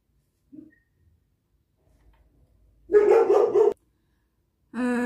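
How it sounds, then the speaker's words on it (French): A female dog barks indoors from nearby, a short burst of barks followed by another brief bark after a pause, with a faint yelp earlier in an otherwise quiet room. "ma chienne, elle aboyait"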